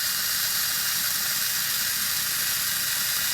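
A Denali by SKIL 4V cordless screwdriver spins freely with a socket fitted, giving a steady, even high-pitched whir that holds without a break from start to finish.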